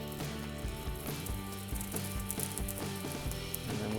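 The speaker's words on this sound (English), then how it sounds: "We got the sear on the T-bone" A huge reverse-seared T-bone steak sizzles steadily in the pan with continuous crackling and popping, accompanied by a soft, constant tonal hum in the background.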